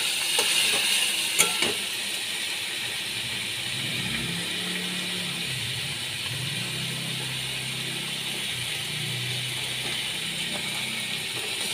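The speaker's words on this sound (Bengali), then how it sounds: "একটু ভাজা ভাজা করে নিচ্ছি আমি" Cumin powder and spices fry in a pan while cooking prawns with kochur loti, a faint, steady sizzling hiss punctuated by a few sharp clicks and scrapes of stirring, with no talk.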